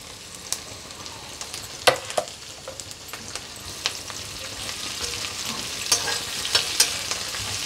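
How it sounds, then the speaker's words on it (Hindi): Onions sautéed and stirred in a pan for a cabbage, broccoli and pea curry, with a steady sizzle and a string of scraping spoon strokes, close and fairly loud, with no talking. "ये थोड़ा सा सौटे करने के बाद इसमें प्याज डाल देते हैं, थोड़ा सा इसको चला देते हैं"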